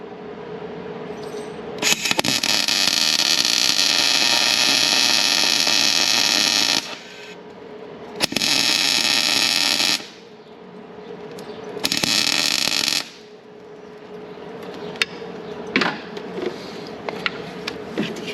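Welding onto a broken exhaust manifold bolt to burn it in, three loud sustained buzzing crackles of a few seconds each separated by pauses, close and alone.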